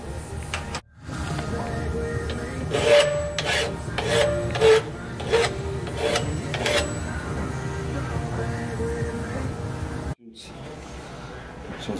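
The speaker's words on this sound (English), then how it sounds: "add a nice little chamfer on our rods to make sure that we don't maul up our bearings as they go" A hand file rasps a chamfer onto 440 Mopar connecting rods, producing repeated scraping strokes in a steady rhythm, close and moderately loud, with faint metallic ringing between passes.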